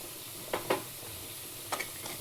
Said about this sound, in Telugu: దీన్ని బాగా కలిపేసుకొని